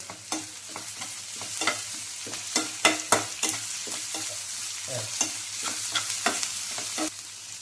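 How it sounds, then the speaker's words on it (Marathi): Crushed chili and garlic get stirred into fried onion in a pan for a dal kanda dish, with repeated scraping strokes over a steady, soft sizzle and no talking. "ही मिरची लसूण कुटलं होतं ना, हे पण याच्यात टाकून घेऊ आणि याला एक थोडंसं मिक्स करू।"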